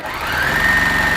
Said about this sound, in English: So we are just sewing around. Speedily.